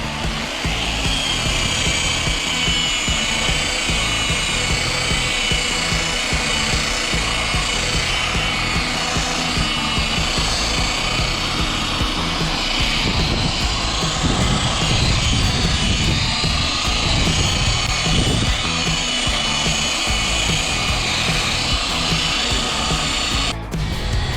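A drill fitted with a buffing pad polishes freshly applied wax on a live edge wood end table, a continuous close whirring drone with a shifting grinding texture that runs throughout.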